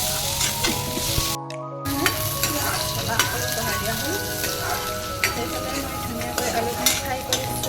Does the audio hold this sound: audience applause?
no